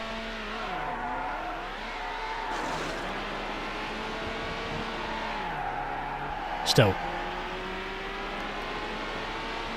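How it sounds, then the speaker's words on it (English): High-revving V10 or V12 engine of a convertible in the PS2 racing game Need for Speed: Hot Pursuit 2, a steady whining drone rising and falling through gear changes, with a brief skid burst, under continuous commentary. "I think this thing probably has to be a V12, at least judging by how high it's revving."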